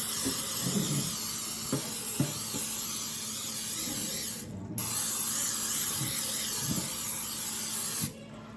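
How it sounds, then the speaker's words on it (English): Two long bursts of hissing olive oil spray into a pan, close and loud, each lasting several seconds with a brief break between them. "Some olive oil spray in this pan that I already used."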